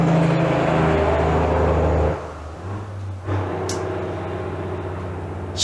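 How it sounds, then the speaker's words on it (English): A lorry rumbles past outdoors, a loud, continuous low engine drone and whir that dips midway as the heavy vehicle passes, then resumes at a steadier level. "Lorry."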